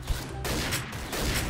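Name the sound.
sniper rifle gunfire in video game XSHOT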